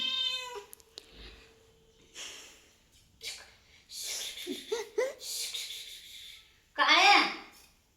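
A cat sitting on a blouse meows, with one strong, drawn-out meow near the end among quieter snorts, breaths and people talking.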